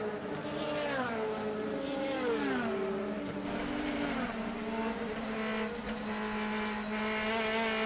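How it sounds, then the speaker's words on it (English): DTM race car at Zandvoort in 2014, heard onboard: a high engine whine rising and falling through gear changes and braking, loud and continuous throughout. "On board with Pascal Wehrlein, who is running standard tyres on Eduardo Mortara ahead of him in P4"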